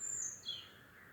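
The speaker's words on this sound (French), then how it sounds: "il y a les oiseaux qui chantent" Birds sing in the countryside beside a canal: a couple of thin, high chirps come through faintly against a quiet outdoor background.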